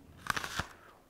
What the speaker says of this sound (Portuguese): Comeu a maçã.